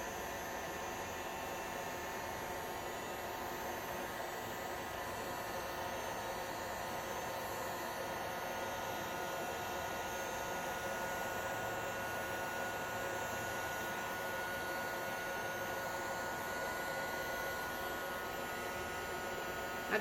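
A heat tool blows a steady, even airflow roar onto resin to spread waves on beach coasters, heard close and continuous with no talking.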